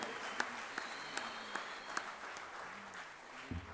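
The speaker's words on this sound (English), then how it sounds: "I would like to give a big round of applause for all the volunteers" Faint audience applause for volunteers at a sports event, a soft wash of clapping with a few distinct sharper claps recurring at an even pace, heard from a distance.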